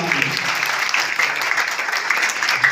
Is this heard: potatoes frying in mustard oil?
no